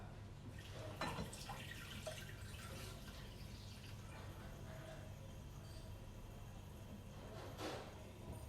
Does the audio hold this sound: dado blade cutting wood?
no